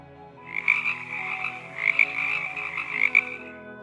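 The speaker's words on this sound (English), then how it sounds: "The frog says ribbit-ribbit." Frog croaking in a steady, rippling chorus of repeated calls, fairly close and moderately loud, with no voices.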